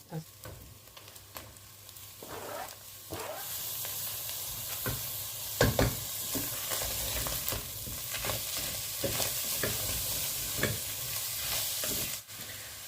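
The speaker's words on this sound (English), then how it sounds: "I've got 2 grated carrots, and I'm going to add that." Grated carrots hit a hot frying pan of shepherd's pie filling and are stirred in, a sustained close sizzle and hiss broken by repeated scraping and clattering strokes of a spoon, with no talking.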